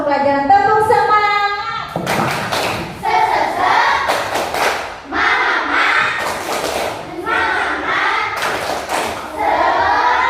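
Children in a classroom perform a spirit clap chant: loud unison voices chanting in rhythm, punctuated by regular group claps and thumps, with the whole class close by.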